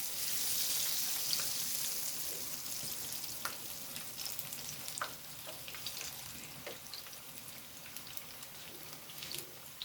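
Banana flower vada frying in hot oil, a soft continuous sizzle and crackle with scattered small pops, faint and close, no talk.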